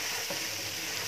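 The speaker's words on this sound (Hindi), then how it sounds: "पराठे बन रहे हैं" A paratha fries in a little oil in a pan in a home kitchen, giving a steady, dense sizzle that is close and continuous with no voices.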